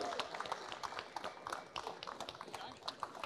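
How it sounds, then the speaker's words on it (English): An audience applauds a Trans Am TA2 class race car. The clapping is faint and distant, a scattered patter of hands that keeps going throughout. "Come on, give that thing an applause."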